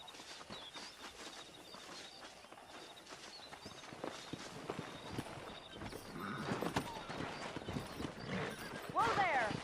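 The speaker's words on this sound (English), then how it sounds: "Let's see if we can't wrangle some horses." Horse hooves clip-clop in the video game Red Dead Redemption, uneven and fairly soft, mixed with game noises and a horse's whinny near the end, with voices talking over parts of it.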